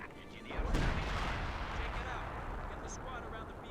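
Heavy artillery fire booms in the video game Company of Heroes 2, one loud blast near the start, then a long rumbling roll of distant battle noise.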